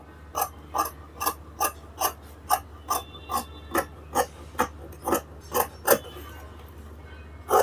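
Scissors snipping through fabric while cutting a fish-style sleeve, a close, evenly paced series of about fifteen crisp cuts, each a short sharp clip, with no talk.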